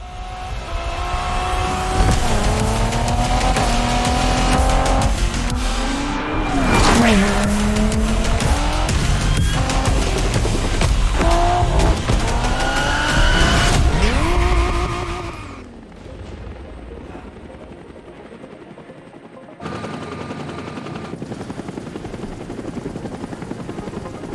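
Cars race through Hawaii in the video game The Crew Motorfest, with loud, close engines revving up and down in sweeping pitch for about fifteen seconds before a quieter, steadier stretch of driving noise.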